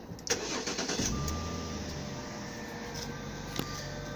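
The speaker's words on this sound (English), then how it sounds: "I'm just gonna turn on the car right now" A petrol 3.0-litre Jaguar XJ6 automatic cranks and catches with a few sharp starter bursts, then settles into a steady, smooth idle recorded close by with no talking.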